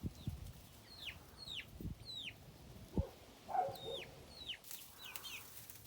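Young Ukrainian farm chicks cheep in short, high, downward-slurred peeps, with softer clucks and scuffling taps at a farmyard, quiet and close.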